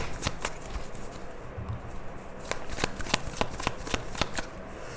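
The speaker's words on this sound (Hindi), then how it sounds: "जिस डेक से आपके लिए कार्ड्स निकाले, आपके पर्सन के लिए निकालते हैं" Tarot cards shuffled and drawn from a deck: soft riffling and a series of crisp, evenly spaced card snaps and slaps, close to the microphone, over a faint steady background hiss with no talking.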